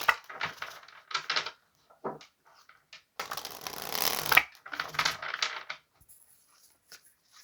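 Tarot cards are handled and picked up, with close papery shuffles, slides and soft taps coming in short bursts separated by quiet gaps, and a longer rustle in the middle.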